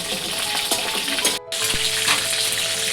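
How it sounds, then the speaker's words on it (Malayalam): Chicken pieces frying in hot oil give a steady, dense sizzle with soft crackles and pops, continuous and close, broken by a brief near-silent gap midway. "അപ്പോൾ ചിക്കനൊക്കെ ഏകദേശം ഫ്രൈ ആയി വന്നിട്ടോ"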